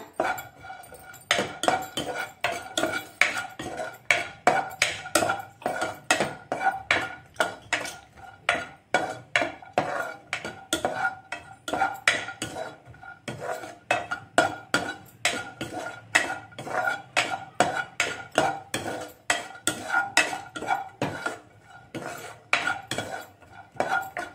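Cashews frying lightly in a hot pan: a utensil repeatedly scrapes and clinks against the metal as the nuts are stirred in a brisk, steady rhythm, close and clear throughout with no talking.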